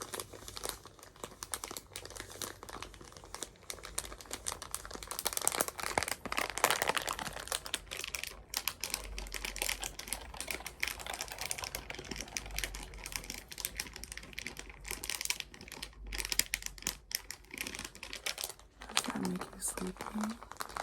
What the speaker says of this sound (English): we have crinkle sounds, crinkle sounds,